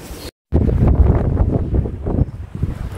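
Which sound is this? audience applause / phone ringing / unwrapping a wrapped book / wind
wind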